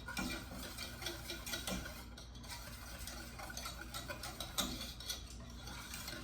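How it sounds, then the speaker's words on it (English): Mini lemon soufflé mixture being whisked nonstop in a pan, a faint steady ticking scrape of the whisk against metal running under a quiet background, with a few slightly louder clinks. "I'm gonna whisk the whole time."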